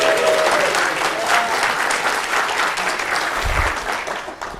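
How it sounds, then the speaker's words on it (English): Conference audience at a DevConf tech talk applauding and cheering together, a dense steady wash of clapping lasting the whole stretch, loud and close, easing slightly at the end. "So I would like everyone to cheer for him"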